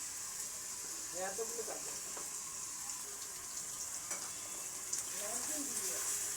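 Rohu fish cooking in a pan as ground coconut paste goes in, a continuous bright sizzle with stirring scrapes and clinks, and voices talking faintly in the background.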